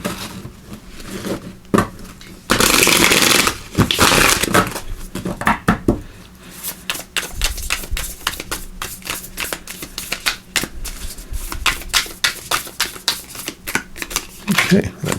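Oracle cards are shuffled close up in a long run of rapid, crisp riffling and flicking bursts, with a few louder slaps and occasional pauses, alone without any talking.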